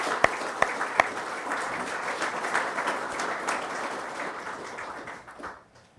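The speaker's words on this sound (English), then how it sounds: "So I'd like to give applause for that." An audience at a memorial ceremony applauds for several seconds, a dense round of clapping that starts with a few sharp claps and fades out at the end.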